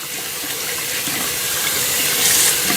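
Tap water running steadily into a sink while a Motorcraft FF65 cabin air filter for a Ford Edge is rinsed under it, a loud continuous splashing gush with no voices.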